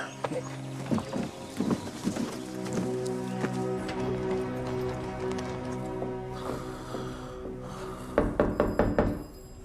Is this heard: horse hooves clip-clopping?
yes